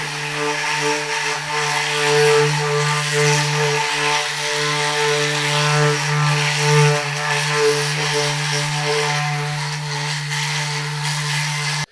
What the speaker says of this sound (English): I like an orbital sander.